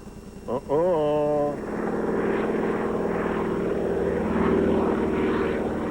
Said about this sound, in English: already the crop dusters are out there dusting these rice fields